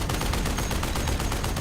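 Sustained gunfire on a film set, a rapid string of loud, sharp shots repeating at a steady rhythm, dense and close.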